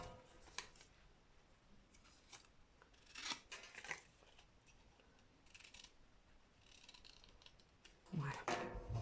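Scissors cut paper diagonally for a card, with several close snips and crisp crunching cuts spread over a quiet background and a louder burst of cutting at the end.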